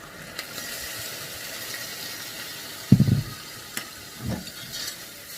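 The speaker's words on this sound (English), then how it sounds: "You want that sizzle, so the pan's got to be hot." Wine poured into a hot pan of browned, dried-out mince for lasagne hits with a sudden loud hiss and crackle, then settles into quieter intermittent sizzling over a low background hum.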